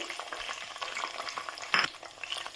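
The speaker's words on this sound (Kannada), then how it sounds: "ಸ್ವಲ್ಪ ಎಣ್ಣೆ ಕಾದ್ಮೇಲೆ ಹಸಿಮೆಣಸಿನ್ಕಾಯಿ ಹಾಕೋಬೇಕು" Green chillies frying in hot oil for a mint and tomato chutney, giving a close, crackling sizzle with sharp spits and one brief louder burst partway through.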